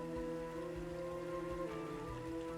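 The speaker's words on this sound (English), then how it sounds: "I don't want to be out in the rain and the cold." Steady rain patters and hisses in Diablo II: Resurrected, a constant wash of drops layered over sustained ambient tones that hold for the whole short stretch.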